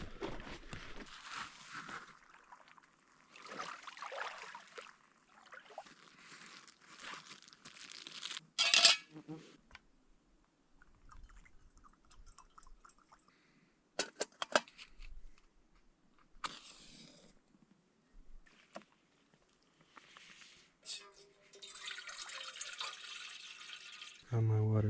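Water gathered outdoors during a hike in northern Lapland: faint splashing and trickling in intermittent bursts, with rustling and handling noise between quieter stretches.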